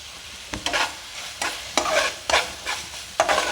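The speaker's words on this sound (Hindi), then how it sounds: "मसाला हम भून लेंगे" Ground garam masala stirred and frying in a pan while an egg omelette is being cooked, with a steady sizzle broken by several scraping stirs of a spoon, close and fairly loud, no talk.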